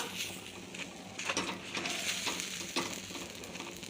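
Garlic-greens dosa batter cooking on a pan over a medium flame, a steady soft sizzle and crackle with occasional faint scraping as the batter is spread, moderately quiet and continuous.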